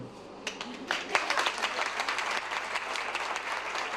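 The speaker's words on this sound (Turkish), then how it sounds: "Gelinimiz alkışları topladı" Wedding guests applauding the bride at a wedding ceremony, scattered claps building into a steady round of applause from a moderately distant crowd.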